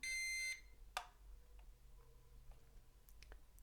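A short electronic beep from a low-cost drone during calibration, then a soft click and faint ticking in a quiet room.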